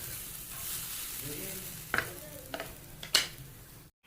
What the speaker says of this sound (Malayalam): ഞാൻ തേങ്ങ വറുക്കുകയാണ്